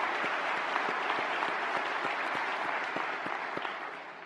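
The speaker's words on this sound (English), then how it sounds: "Let's give them another round of applause." Audience applause after a general's address at a National Defense Transportation Association and Transcom fall meeting held at a resort: dense, steady clapping from a large crowd that fades slightly near the end.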